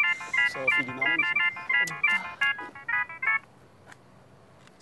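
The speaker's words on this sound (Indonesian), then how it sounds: "Lu biasa tuh kalau misalnya bunyi handphone tuh." Mobile phone ringtone plays a rapid sequence of bright electronic beeping tones in short repeated bursts, close and fairly loud, with voices talking over it before it stops.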